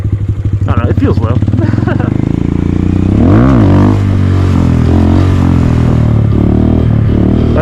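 A Honda Grom motorcycle rumbles at a very low idle, loud and close, with a brief throttle blip partway through before it settles back into a steady low drone.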